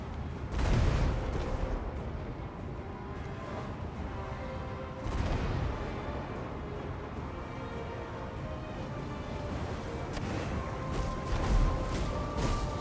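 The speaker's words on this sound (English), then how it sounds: "let's see if the flame cannons are finishing off the rest of the zombies here" Flame cannons fire on zombies in the Total War: Warhammer 2 strategy game, heavy booming blasts landing at about 1 and 5 seconds over a continuous rumbling battle din with crackling impacts, another burst near the end.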